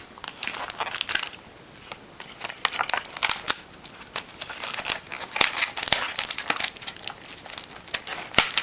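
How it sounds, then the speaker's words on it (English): An X-Acto knife snips and crinkles through plastic packaging to free G.I. Joe figure weapons, giving rapid, close crackling and sharp clicking ticks throughout. "Use my little X-Acto to help me get these weapons out."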